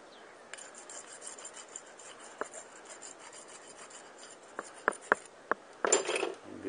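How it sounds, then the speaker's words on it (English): A hand rasp roughens the wooden shaft of a homemade stakeout pole: quiet, uneven scraping strokes with scattered sharper scratches, building to a louder rasping burst near the end, with no talking. "Use the rasp."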